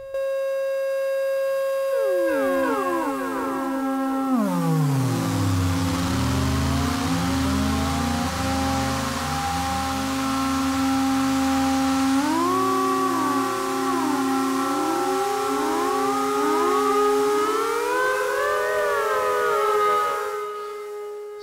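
Strega synthesizer with the absorb control cranked up: a dense, gnarly drone whose pitches sweep down into a deep growl and then climb back up, howling like a siren, loud and sustained with no talking.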